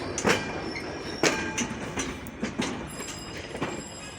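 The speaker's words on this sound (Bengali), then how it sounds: "সুন্দরবন এক্সপ্রেসের র্যাক" A Sundarban Express rake rolls through Saidpur railway station, steady rumbling wheel noise punctuated by rhythmic clacks over rail joints and faint high squeals, fairly close.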